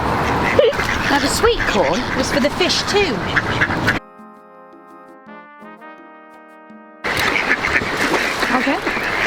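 A duck quacks in a rapid run of loud, clear calls alone in the middle, with people chatting outdoors before and after.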